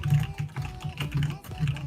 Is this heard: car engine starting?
no